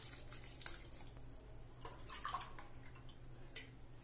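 Water splashes and trickles faintly as it is poured over rice in a pot for vegetable pulav, a quiet continuous pour with a few drips and no talking.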